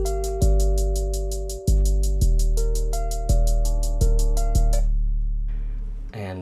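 A beat programmed in FL Studio plays alone, with a hi-hat pattern ticking in fast, even sixteenth-style pulses over deep booming 808 bass notes, loud and close, before the hats stop and the bass tails off.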